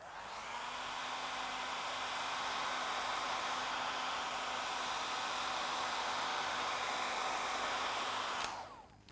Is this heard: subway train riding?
no